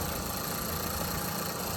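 A car engine idles close by with a steady, rough rumble and faint knocking, unbroken throughout with no one speaking.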